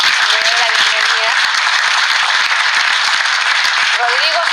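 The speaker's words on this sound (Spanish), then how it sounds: "Nuestros invitados de hoy son Lisandro Contreras, padre de un hijo sordo, para quien pido un aplauso." Studio audience applause welcoming a guest on a talk show, continuous clapping at a strong even level throughout, with a faint voice briefly audible beneath it.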